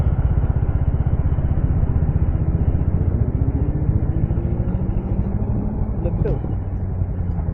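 A Kawasaki Z9 superbike engine drones loud and close with a steady, throbbing rumble that holds for several seconds, a brief whine rising near the end.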